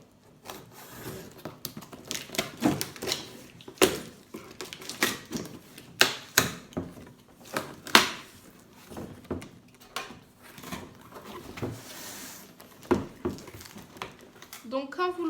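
A cardboard box holding a Lidl 3-in-1 floor cleaner is torn and pulled open from the top, with a run of scattered close rips, taps and scrapes of cardboard and packing, uneven in loudness.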